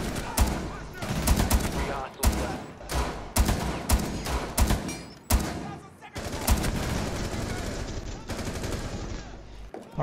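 Gunfire in the video game Rainbow Six Siege during a hostage mission on the Outback map: rapid bursts of automatic shots, loud and close, with brief gaps and a sustained stretch of firing near the end.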